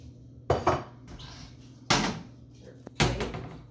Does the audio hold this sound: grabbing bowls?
yes